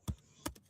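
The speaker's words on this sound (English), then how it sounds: "Let me type this, see what it says." Two or three soft keystrokes on a computer keyboard, quiet and close, spaced unevenly in a brief moment with no talk.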